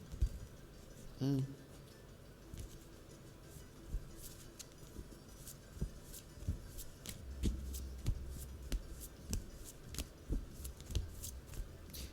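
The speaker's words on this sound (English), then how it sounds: "I know how to shuffle. It's just these cards are a little thick." Repeated soft papery riffles and clicks of thick tarot cards being shuffled by hand, fairly close, with occasional light taps over a quiet room background.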